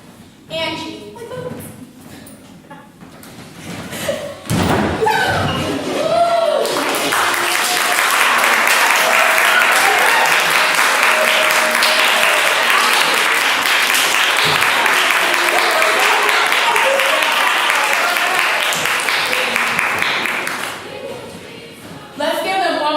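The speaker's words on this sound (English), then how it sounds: "Let's give them one more round of applause" Audience applause at a youth leadership institute show, after performers are named: brief voices and scattered sounds at first, then a loud, sustained wave of crowd clapping and cheering that fades near the end.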